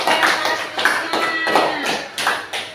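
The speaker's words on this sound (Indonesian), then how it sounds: "beri tepuk tangan" After a classroom presentation, a small audience claps in several short, uneven bursts, close by, with voices mixed in.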